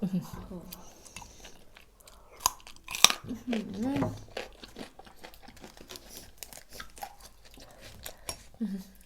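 Shrimp wrapped in fish-sauce-pickled egg yolk, dipped in seafood sauce, is chewed close up with soft crunchy, wet bites in bursts amid quiet background noise.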